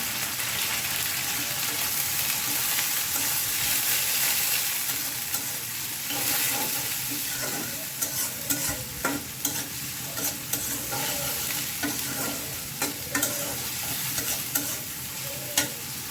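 Washed shrimp frying with radish in a pan, a loud, dense, continuous sizzle like heavy rain, with scraping stirs and clinks growing more frequent later on.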